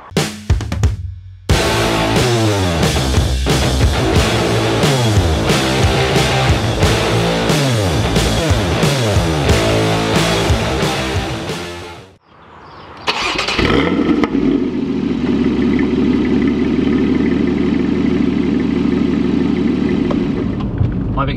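A BMW M2 engine cranks and catches, roaring loud and close with strong revving, briefly cutting out, then settling into a steady, rumbling idle.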